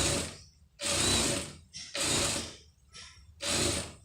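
A sewing machine stitches a blouse lining in three close, loud mechanical runs of rapid clattering, separated by short pauses.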